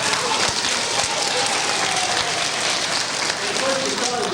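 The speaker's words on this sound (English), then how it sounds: "Let's give Darla a nice round of applause." Steady applause from an audience at a 1982 school show, a continuous wash of clapping with voices mixed in underneath.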